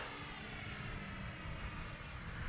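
A small Arrows RC Marlin 64mm electric ducted-fan jet flies overhead as a steady, faint, continuous whooshing whine, with no voices.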